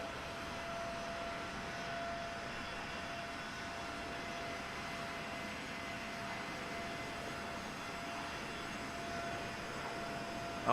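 Spirit Airlines Airbus A321 jet engines in Microsoft Flight Simulator 2024 on PS5 Pro: a steady, even broadband roar with a faint high whine, constant and unbroken throughout, no voices.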